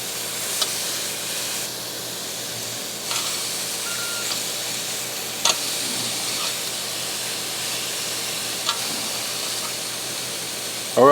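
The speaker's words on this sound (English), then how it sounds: "Get that sizzle, sizzle," Shrimp skewers sizzle on a Ninja Woodfire grill over pecan pellets, a steady close hiss that runs throughout with a few soft clicks and clatters.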